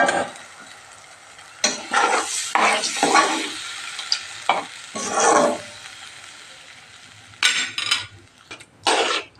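Spices tempered in hot oil for kadhi, with turmeric added, sizzle under bursts of stirring as a spoon scrapes around the pan, close and fairly loud, with short pauses between strokes; no talking.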